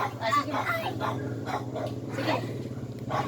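A dog whines and yelps in a run of short, close cries, with people talking underneath.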